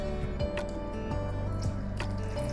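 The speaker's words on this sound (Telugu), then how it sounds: "ఇప్పుడు ఇంకొంచెం వాటర్ పోస్తానండి" Water trickles and splashes into a pot of chana dal masala curry, a close, steady pour with small drips and gurgles.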